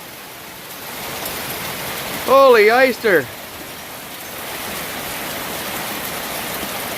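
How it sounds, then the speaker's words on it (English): Hail pounds down in a June storm in Washington, hitting a garden as a constant hissing, pattering roar, with a short excited exclamation from a voice partway through. "That's hail, folks."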